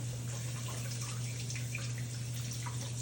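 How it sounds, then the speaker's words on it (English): Tap water runs steadily over a geoduck clam being rinsed in a sink, a continuous hissing splash with faint drips, fairly quiet and without talk. "Let me rinse this."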